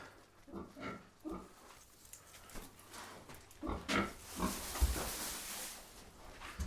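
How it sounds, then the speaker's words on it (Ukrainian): Young pigs grunt and snort repeatedly at close range in a pen, with rustling movement and a few louder squealing grunts. "переженемо поросят"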